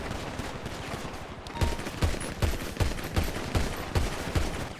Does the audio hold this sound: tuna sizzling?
no